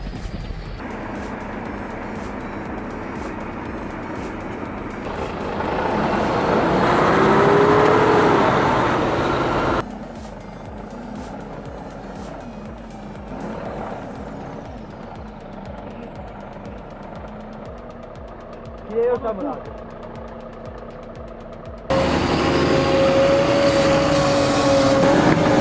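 Engine of an overloaded logging truck built on a road chassis, a labouring diesel drone that swells and drops in distinct sections, with gear shifts and occasional clunks, fairly loud with no voices.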